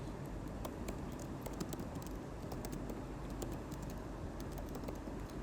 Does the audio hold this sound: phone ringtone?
no